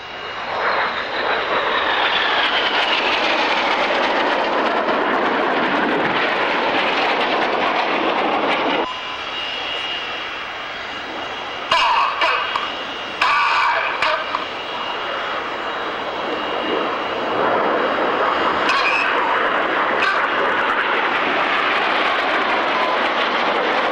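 Red Arrows jets make a very hard pull into the opposition loop at the Kemble Airfield airshow, a loud continuous jet roar that dips briefly, then surges back with sharp bursts before settling into a sustained roar.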